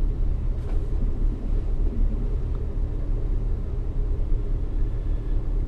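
A 1974 Plymouth Valiant engine idles after a cold start, giving a steady, loud low rumble that holds even throughout with no voices.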